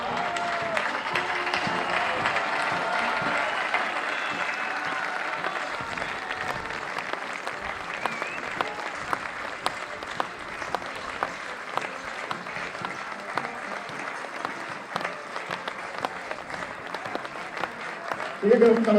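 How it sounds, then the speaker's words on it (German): Applause from the crowd greets the winning group commanders at a fire brigade competition awards ceremony, sustained and even, mid-distance clapping that runs on for many seconds, with a faint murmur of voices underneath. "Begrüßen Sie mit mir mit einem kräftigen Applaus die Siegergruppenkommandanten."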